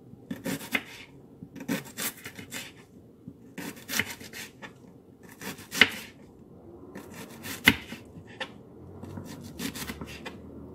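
A knife cuts nopales into small squares on a board, producing irregular bursts of scraping, rasping strokes with a few sharper chops, close and quiet, without talking.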